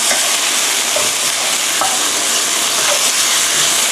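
Steady loud sizzling and hissing of fermented pork sausage and minced pork stir-frying in a hot wok, with faint scraping as it is stirred.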